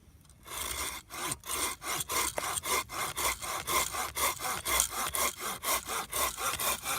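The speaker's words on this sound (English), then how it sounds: "Let's see how many pulls it takes to cut it with the Corona." A Corona hand saw cuts through wood in a steady rhythm of about a dozen and a half even pull strokes, each a loud, close rasping stroke with short gaps between, with no other sound.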